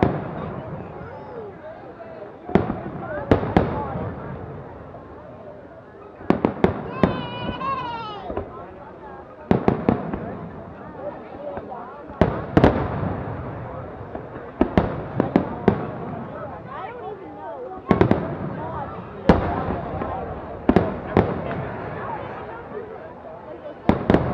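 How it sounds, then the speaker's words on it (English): Dragon-shaped fireworks bursting at an event, sharp repeated cracks and booms at irregular intervals over a steady crowd murmur, with a whistling rise in between. "Gandalf's fireworks, dragon shaped ones."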